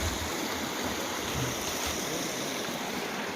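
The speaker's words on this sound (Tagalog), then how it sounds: "Galing ang tubig dun. May tubig dun." Meltwater flows down from above through a snowy landscape, making a steady, continuous rushing wash that holds at an even, fairly close level with no voices.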